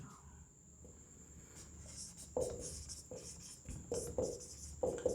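Marker or chalk writing on a board during a current-affairs lesson, a series of short scratchy strokes in bursts growing louder toward the end, over a steady high background hiss.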